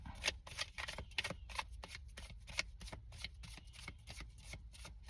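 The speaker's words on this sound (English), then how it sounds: "it feels like it's important for me to shuffle like that for a second" Tarot cards shuffled by hand in a run of quick, crisp riffling bursts, close and fairly quiet, with no talking.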